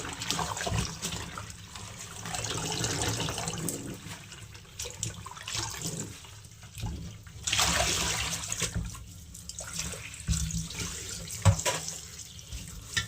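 Pumpkin leaves rinsed under a running kitchen tap, a steady close splash of flowing water with brief surges and dips as the leaves are moved through the stream, no voices.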